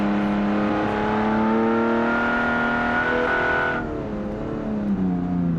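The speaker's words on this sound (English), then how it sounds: "Nice sounding inline engine." A rally car's inline engine revs hard in a racing video game on Italian city streets, its strong harmonic note climbing steadily, then dropping sharply as the driver shifts or lifts. The sound is loud and close, with no talk over it.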